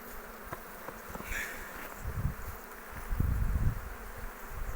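Honeybees at an opened, varroa-free hive give off a steady low buzzing hum that swells and fades, with louder surges near the end.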